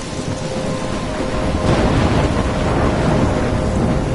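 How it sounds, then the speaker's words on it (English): Thunderstorm with heavy rain in the Life is Strange video game: a dense, loud wash of rainfall with a deep thunder rumble swelling midway and continuing, steady throughout with no voices. "I'm trapped in a storm?"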